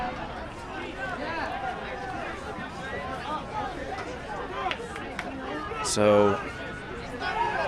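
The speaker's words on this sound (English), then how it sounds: "listen to the crowd welcoming their Red Devils back out" A football crowd at a high school game, Evanston vs. Ben Lomond, makes a steady murmur and chatter as its Red Devils come back out, with a brief louder burst near the end and a word spoken over it.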